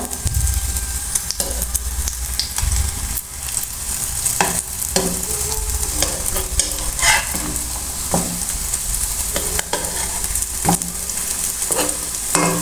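Cauliflower pieces frying in a pan, with a steady loud sizzle throughout and repeated scraping clinks of a spatula stirring them, no voices.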